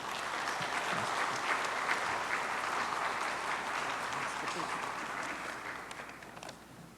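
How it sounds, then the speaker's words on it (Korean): A church congregation at a Friday prayer service claps to welcome a deacon to the front, broad sustained applause that holds strong for several seconds, then thins and fades toward the end. "우리 집사님 나오실 때 박수로 맞이하겠습니다"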